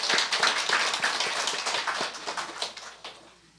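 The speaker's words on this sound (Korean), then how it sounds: "우리 뜨거운 박수로 환영하겠습니다." A church congregation claps to welcome a newcomer, a dense and close burst of applause that stays strong and then thins out toward the end, with no voices over it.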